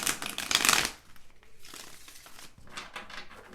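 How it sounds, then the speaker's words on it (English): Tarot cards shuffled by hand: a brisk riffling burst up front, then softer intermittent card rustles and taps, close and quiet, with no talking. "Feel the need to shuffle one more time."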